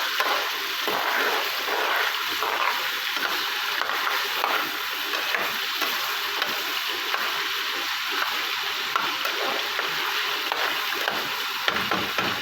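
Chicken fries for a white handi, an even, crackling sizzle with hissy bubbling and intermittent scrapes of stirring, heard close and unbroken throughout.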